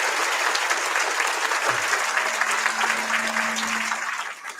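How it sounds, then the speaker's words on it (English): Sustained audience applause fills a gala dinner hall, a dense, steady wash of clapping from a crowd honoring the servers at the back of the room, holding level before tapering slightly at the end. "Can we give those folks a round of applause?"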